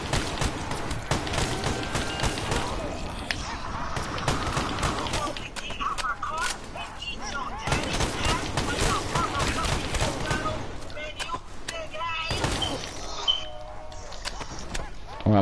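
Rapid gunfire from a shooter video game, with continuous bursts of shots and impacts over busy game noise and a player speaking.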